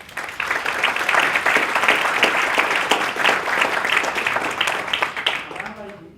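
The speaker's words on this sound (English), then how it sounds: "I'd like to give them each a round of applause." A lecture audience gives a round of applause for a panel of three rabbis: a full, sustained burst of clapping from many hands with some voices mixed in, fading away at the end.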